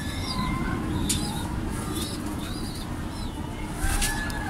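A breeder pigeon coos in repeated soft throaty phrases close by, with a few brief sharper sounds and a low background hum.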